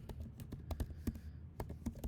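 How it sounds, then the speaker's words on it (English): Keys tapping on a computer keyboard while entering code comments for a programming exercise, a close, irregular run of light clicks with brief pauses. "I'm just typing in the comments here so we know what it is later."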